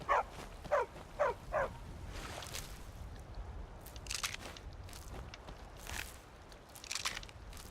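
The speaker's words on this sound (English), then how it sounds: "The dog killed it." A dog in the video game Skyrim attacks and kills a creature, with several sharp biting crunches in quick succession at the start, then softer snarling and scuffling bursts against a low background.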